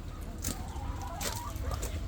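Backyard chickens on a small egg ranch cluck softly in short, scattered bursts, fairly close, over a low hum of background noise.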